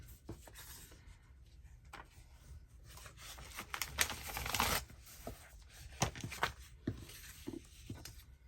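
Paper rustles, rubs and crinkles as sheets of glue paper are handled during a craft session, with soft taps and a louder tearing or peeling burst near the middle, close up and without talk.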